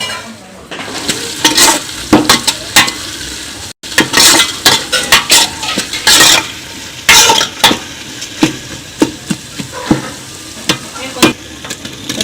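Bay leaf, coriander and mint sautéing in a pan for a chicken biryani, with a loud, busy sizzle and frequent spatula scrapes and clinks against the pan in an uneven rhythm, and no voices.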